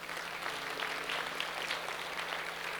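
A church congregation applauds during a sermon, a faint, dense, even patter of clapping heard from some distance and sustained for the whole stretch, with a low hum beneath.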